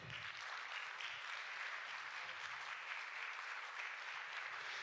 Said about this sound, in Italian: E quindi ci fa piacere accoglierlo con un bel applauso, Enrico Bessolo.